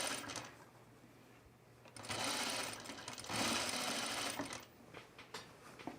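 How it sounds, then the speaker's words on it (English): Sewing machine understitching a crinkled cotton blouse, quiet rapid stitching whirs that run in two longer bursts with brief pauses between, close up and alone. "So I'm going to understitch this."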